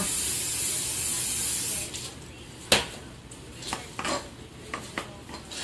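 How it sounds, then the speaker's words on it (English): Hissing bursts of non-stick cooking spray, a steady long spray followed by several short puffs, with faint clinks of cookware in between. "We'll spray it a little bit more."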